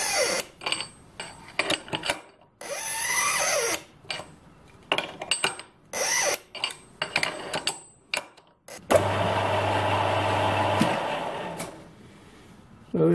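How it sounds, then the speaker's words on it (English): A small metal lathe cutting a thread in brass, run dry, in repeated short bursts of whirring and scraping separated by pauses, then a longer steady pass with a low hum underneath. "So there's our thread, cutting quite nicely."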